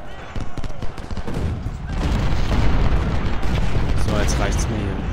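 Cannon volleys boom in a Civil War battle from the video game Ultimate General: Civil War, heavy rolling blasts and rumbling gunfire that swell into a sustained roar, with someone talking over the din.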